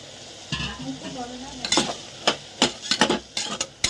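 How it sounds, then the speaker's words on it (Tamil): Eggplant cooking in hot oil in a pan, sizzling softly while a utensil scrapes and clinks against the pan in several sharp strokes, close by, with a brief voice near the start. "கத்திரிக்காய் சேர்த்து 2 நிமிஷம் நல்லா ஆயிலே வேக விட்டுறலாம்"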